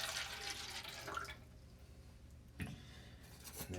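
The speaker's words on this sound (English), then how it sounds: "Another 100 milliliters of water into the calorimeter." About 100 milliliters of water pours into a lab calorimeter during a heat of solution experiment, a close, splashy stream for just over a second followed by quieter dribbles and a brief second splash.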